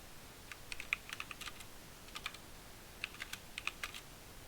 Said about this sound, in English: Typing that out seems a little...